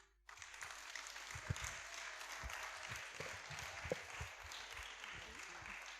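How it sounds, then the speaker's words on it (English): Audience applause at a kindergarten graduation exercise, fairly faint and steady, with scattered louder claps and a few low thumps standing out through the quiet crowd sound. "Let's keep the applause going for Miss Levy this evening."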